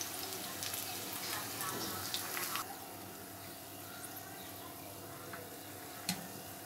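Potato balls frying in oil at low heat make a steady, soft sizzle with faint crackles, while occasional light taps and stirring clicks come from turning them in the pan.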